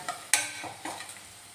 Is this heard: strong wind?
no